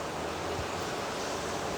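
Steady heavy downpour in Lamjana near Latur, a continuous broadband wash of rain noise at constant loudness, close and unbroken, with nobody speaking.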